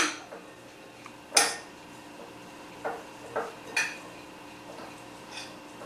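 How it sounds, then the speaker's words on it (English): A metal utensil stirs an egg into artichoke stuffing in a bowl, giving sharp clinks and scrapes at irregular moments between quieter, softer mixing sounds, close by and with no talking. "I'm also going to add 1 egg. Stir that in."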